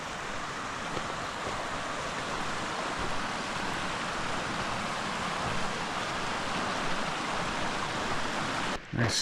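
Rock Creek, a mountain creek near where the Pacific Crest Trail crosses it in Golden Trout country, flows in a steady broadband rush that stays loud and constant throughout, with a brief disturbance near the end.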